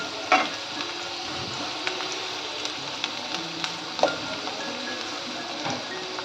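Onions fry in a pan until reddish for Kolhapuri chicken, making a soft steady sizzle close by, with a few distinct spatula taps and scrapes scattered through it and no speech.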